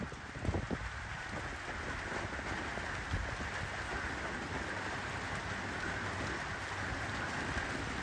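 Steady rain falls nonstop on a rainy day in a rural village, a dense even hiss with scattered close drips and patters, no voices.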